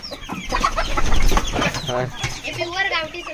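Desi village chickens cluck in a steady stream of short calls, close and fairly loud, with people talking over them throughout.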